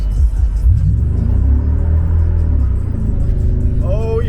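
A 1998 Chevrolet C/K1500 pickup with a 4L60E automatic transmission accelerates hard, its engine rumbling loud and rising in pitch before a gear shift, with a voice briefly heard inside the cab.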